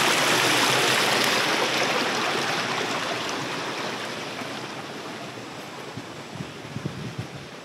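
Rainwater rushes down a hillside near Sarasgad Fort after heavy rain, a broad steady roar that slowly fades over several seconds, with a few louder splashes near the end.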